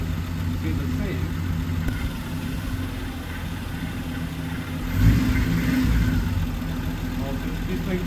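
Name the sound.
1970 Triumph TR6 engine idling while carburetors are adjusted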